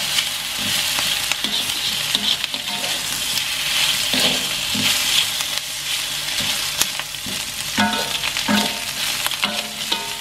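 Sausages and meatballs are sautéed in a pan with a loud, continuous sizzle and crackle, while a utensil scrapes and clinks against the pan at irregular moments throughout.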